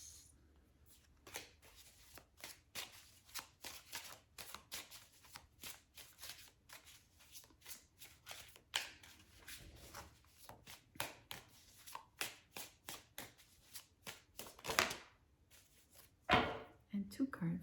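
Tarot cards shuffled by hand in a long run of quick, crisp riffling clicks close to the listener, ending with a few cards flipped down, with speech heard faintly around them.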